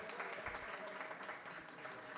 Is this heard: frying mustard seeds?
no